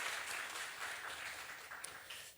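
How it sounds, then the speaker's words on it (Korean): A church congregation applauds during a Sunday worship service, a steady wash of many hands clapping together at an even level for the whole stretch, filling the sanctuary with no voices over it. "다음 세대를 위해서 다시 한번 격려할 박수 한번 치겠습니다"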